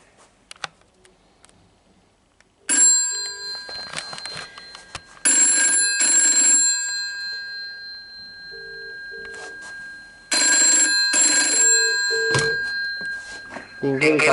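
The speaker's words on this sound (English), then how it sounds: "You can hear the vibrator going, it's definitely ringing." A GEC TELE-2W-AWT wall telephone's electric bell rings in loud, bright bursts of rapid clanging, three long rings separated by pauses, with a few quiet knocks and a brief low voice between them.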